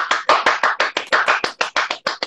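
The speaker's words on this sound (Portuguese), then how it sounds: "Palmas pro André." A single person claps about fourteen times in a quick, steady rhythm, close and loud, with no other sound around the claps.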